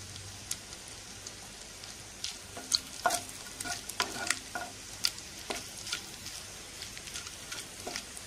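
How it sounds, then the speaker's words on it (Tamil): Grated coconut for a jackfruit payasam is dry-roasted and stirred in a pan, giving a soft sizzle under irregular scraping strokes of a spoon that come in quick clusters. "கொஞ்சம் இந்த கலர் சேஞ்ச் ஆகுற அளவுக்கு நல்லா வறுத்துக்கலாம் இந்த தேங்காயை"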